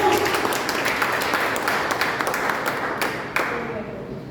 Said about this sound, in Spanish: ¿Cuánto le damos un aplauso a Jesús?